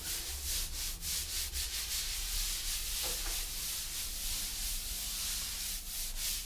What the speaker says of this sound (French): Alors on ne frotte pas trop parce qu'on ne veut pas vider le joint, on peut juste le former.